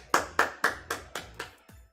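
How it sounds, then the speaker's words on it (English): Six sharp claps ring out in a quick, even rhythm, loud and close, with nothing else around them. "Ladies and gentlemen, round of applause"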